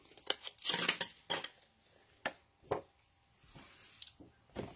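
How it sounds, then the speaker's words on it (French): Scissors snip along a folded edge of paper or fabric in a quiet room, with several short, crisp cuts of uneven spacing and a brief cluster of rustling handling near the start. "Je coupe ici le long de mon pli."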